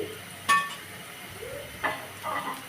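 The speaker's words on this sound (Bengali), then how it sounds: "পেঁয়াজ এবং কাঁচামরিচটাকে একটু গোল্ডেন কালার হওয়া পর্যন্ত এভাবে তেলের উপরে ভেজে নিব" Onion and green chili fry in oil in a pan, a faint, soft sizzle broken by a few brief stirring clatters.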